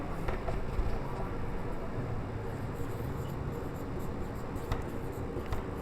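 Chalk or marker scratching a word across a board in a classroom, a steady soft scraping with occasional sharper taps, close and unaccompanied by talk.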